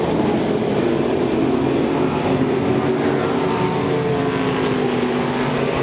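Race cars run two and three wide around Devil's Bowl Speedway, their engines blending into a loud, continuous drone that holds steady at full volume.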